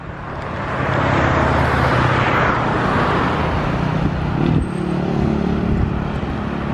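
A car driving along a road, a steady loud rumble of engine and tire noise throughout with a slight shift midway.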